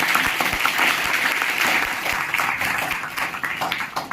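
An audience at a Republic Day event at a computer centre applauds to welcome a former agricultural school principal, steady dense clapping from many hands throughout.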